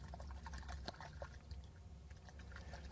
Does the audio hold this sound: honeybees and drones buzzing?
no